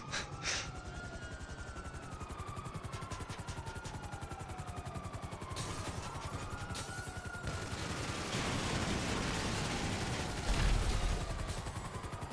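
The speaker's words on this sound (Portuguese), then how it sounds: "Tem uns tiros." Rapid video-game gunshots rattle in a long steady stream, with whining engine tones, including a helicopter, rising and falling behind them.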